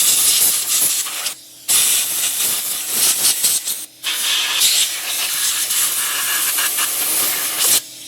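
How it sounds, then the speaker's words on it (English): Compressed air blown in strong hissing bursts through a gun to clear leftover residue during cleaning, several long loud blasts separated by brief pauses, close and with no talking. "blow out any leftover residue in there"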